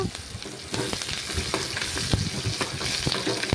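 Onion, garlic, coriander and curry leaves sautéing in a hot pan after mustard seeds and urad dal, a dense close sizzle broken by repeated sharp scrapes and knocks of a spoon, no voices.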